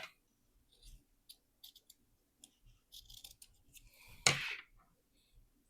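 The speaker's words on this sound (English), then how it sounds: "I'm just going to trim this off so that it's even." Scissors trim the uneven edge of sewing fabric in a string of small, quiet snips and clicks. A louder crisp cut near the end is followed by a short rustle of cloth, all close to the listener in an otherwise silent room.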